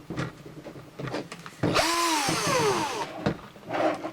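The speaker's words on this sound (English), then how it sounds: "Take your cordless drill." A cordless drill whirs up and runs steadily for over a second, its pitch sweeping as a small bit bores a pilot hole in the plastic bottom of a homemade minnow trap, with handling clatter around it.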